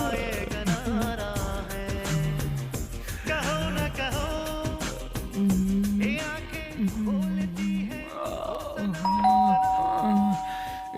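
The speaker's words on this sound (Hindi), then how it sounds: "बीच में आके कौन घंटी बजा रहा है?" A doorbell chimes late at night in a home, its ringing tones nearly buried under a loud, upbeat song playing continuously.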